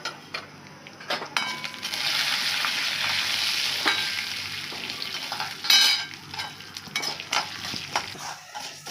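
Urad dal and dried chillies roasting in oil in a pan give a bright, continuous frying hiss, punctuated by sharp spoon clinks and scrapes against the metal, with no voices present.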